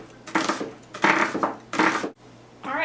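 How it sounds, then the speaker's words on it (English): An onion is chopped into small pieces on a cutting board, with three bursts of quick crunchy knife strokes separated by short pauses, close and clear. "I'm just going to start out by chopping up this onion here into small pieces"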